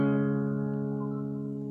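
A single acoustic guitar chord strummed once with the first string muted, ringing out close and clear and slowly decaying without any talk.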